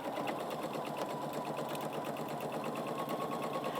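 A sewing machine runs steadily at close range, its fast, even needle chatter stitching the seams of an Easter egg table runner, with no pauses.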